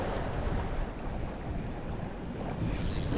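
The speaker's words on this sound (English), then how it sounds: "Waves are getting bigger." Waves slap and rush against a fishing boat on a lake during a stormy day, with wind buffeting the microphone in a steady, loud wash.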